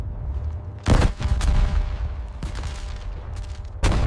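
Sharp, piercing cannon shots from a Sherman Firefly tank's 17-pounder gun, two loud cracks with booming rumble trailing off, then another blast at the end; a faint voice briefly under the noise.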